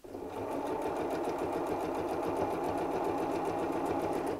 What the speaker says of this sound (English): I need to stop sewing here at the same point as I did previously